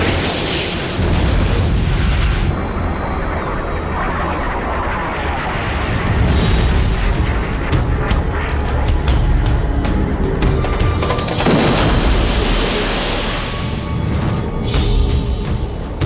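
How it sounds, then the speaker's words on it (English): A Sidewinder missile explodes in a MiG's tailpipe during an air combat scene, with loud, rumbling booms and bursts rolling over a sustained roar, several distinct blasts spread through the sequence. "When the second missile flew up the tailpipe and it exploded"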